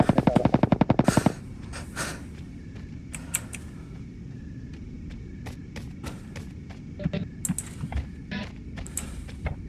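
Rapid automatic gunfire in the shooter Ring of Elysium, a dense close burst at first, then scattered single shots and short bursts over a low background rumble.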